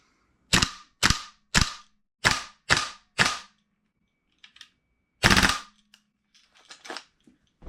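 A Vipertech M4 gas blowback airsoft rifle fires six crisp, evenly spaced shots with snappy bolt clacks, then a single louder shot after a pause, followed by faint mechanical handling clicks in an otherwise quiet space.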